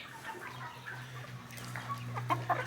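Chickens and roosters cluck and chatter softly in short irregular bursts over a low steady hum, fairly quiet and close by.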